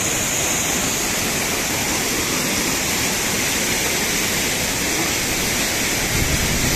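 A waterfall in Bhaktapur, Kathmandu gives a steady, close rushing roar of falling water that stays constant and loud throughout, with no voices.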